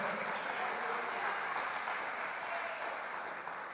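A church congregation claps together, a steady dense wash of applause at low level that eases off slightly at the end.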